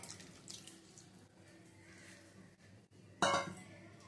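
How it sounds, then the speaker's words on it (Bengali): Water is poured into lentil dal cooking on the stove, a soft running splash that ends in a louder burst of sizzle and clinking near the end. "দিয়ে দিচ্ছি একটু জল।"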